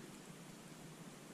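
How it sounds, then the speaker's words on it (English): Steady, soft broadband hiss of rain falling on an overnight tarp camp outdoors, a continuous wash with no distinct drops standing out and no talking. "It's definitely starting to rain."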